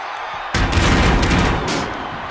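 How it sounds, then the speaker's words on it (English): A loud ringside explosion in the WWE 2K24 wrestling game bursts in suddenly and roars as a dense, sustained blast that slowly tapers off without fading out completely. "And the explosion occurring ringside."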